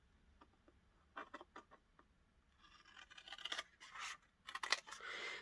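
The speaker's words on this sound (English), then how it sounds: "And cut along that middle fold." Scissors snip along the middle fold of a sheet of paper for a handmade slit book, a string of short quiet cuts followed by a louder, longer run of snipping, close up and with no talk.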